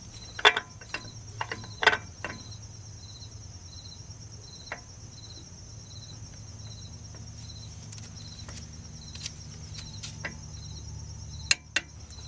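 Ratcheting and clicking as the wheel bearing hub on a Ford F250 Dana 50 front axle is spun and torqued, with sharp metallic clicks at the start and near the end over a faint steady mechanical whine.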